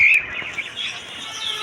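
Australian dove at a busy bird and pigeon market, giving a short clear high call at the start, followed by softer chirping and general bird chatter in the background.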